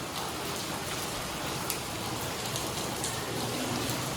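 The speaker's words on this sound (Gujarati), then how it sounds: "તો અત્યારે સવારમાં તો ફર્સ્ટ ક્લાસ વરસાદ આવે છે" Steady, dense rainfall hisses evenly throughout, close by and unbroken, with no voices or other sounds standing out.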